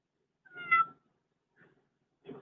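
A cat meows once clearly and fairly close, followed after a pause by two shorter, softer meows in an otherwise quiet room.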